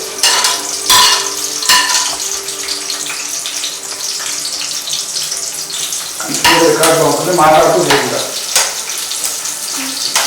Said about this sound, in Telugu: ఆయిల్ వేడెక్కిన తర్వాత ఆనియన్స్ వేసుకోవాలి.